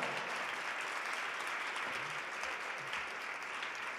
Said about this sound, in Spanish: Así que un fuerte aplauso desde acá.